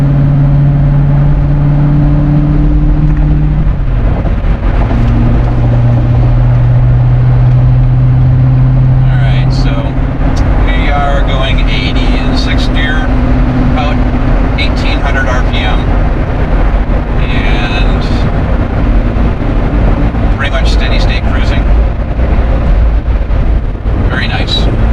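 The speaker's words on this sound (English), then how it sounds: "tip into it, get a little acceleration, a little bit more exhaust presence" A Corvette C7 fitted with an MRT QuadFlow axle-back exhaust accelerates under light throttle, a deep steady exhaust rumble rising slightly in pitch, while someone talks over it throughout.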